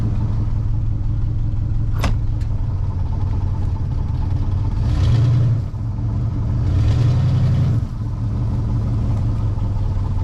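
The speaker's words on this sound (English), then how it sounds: "there's the valve clatter" A 1963 Pontiac Catalina engine idles with valve clatter, a steady loud rumble with a few swells in revs and a brief sharp click, close by.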